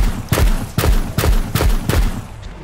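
Shotgun blasting buckshot pellets in a video game, five loud close booming shots in a steady rhythm about half a second apart, each with a short rumbling tail.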